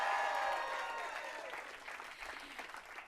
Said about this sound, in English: Also, a special round of applause